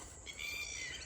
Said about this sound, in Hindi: पता नहीं कहाँ से एकदम 2-3 चिड़िया उड़ के आ, और हमें देख के मतलब चीख रही, चिल्ला रही हैं।